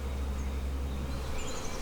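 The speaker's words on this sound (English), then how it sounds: "I'm not making these bees happy." Honey bees buzz at an opened hive during spring work, a soft continuous hum of many insects close by with no talking.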